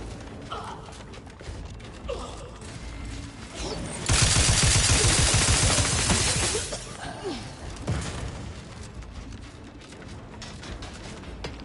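Gunfire in The Outer Worlds 2, scattered shots early on building to a loud, sustained volley of rapid fire in the middle before easing back to sporadic bursts.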